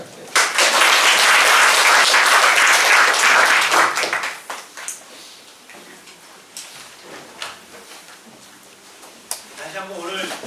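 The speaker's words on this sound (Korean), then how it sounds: "다시 한번 오늘 좋은 말씀 해주신 교수님께 힘찬 박수 부탁드립니다" An audience at an HRD forum lecture gives loud, dense applause for the professor. It fades out after about four seconds into sparse scattered claps and a few knocks, with no spoken words.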